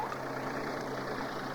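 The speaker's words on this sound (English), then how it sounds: "There was the sound of a tractor in the lane." A tractor engine rumbles in a country lane, a faint, steady low drone with no change in pace and no voices.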